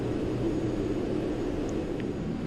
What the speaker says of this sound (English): Autopilot slowing the aircraft, or auto throttle is slowing the aircraft down.